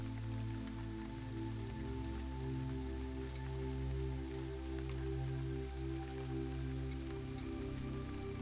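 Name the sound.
rain falling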